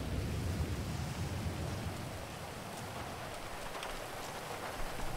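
A heavy rainstorm in Grand Theft Auto roleplay pours steadily, a dense, even hiss of rain on surfaces with a rumbling low end, loud and continuous with no talking.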